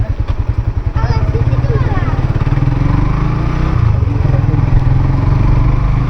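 A motorcycle ridden in the rain putters with a rapid, even engine pulse that starts distinct and settles into a steady drone, with a person talking over it.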